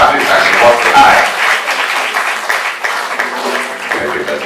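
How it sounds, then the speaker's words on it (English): Dense, loud applause from a crowd at an Nnewi Women League Lagos branch celebration as a woman walks the aisle, sustained and even throughout. "a round of applause for her, please, as she walks the aisle"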